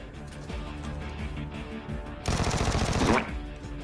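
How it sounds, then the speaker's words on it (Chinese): Automatic gunfire erupts in the mobile battle royale game Game for Peace, a dense burst of rapid shots lasting about a second after quieter in-game ambience, loud and close. "355方向还有枪声"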